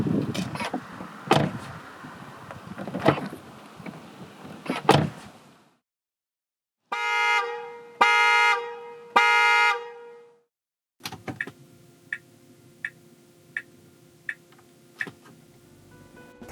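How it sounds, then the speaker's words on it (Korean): A 2021 Tesla Model Y Long Range playing its novelty sounds: a series of quick sharp bursts, then three sustained tonal honks, then a droning tone with regular clicking taps, fairly quiet and with no talk. "잠시 모델 Y가 들려주는 감성 측면의 소리를 들어보겠습니다."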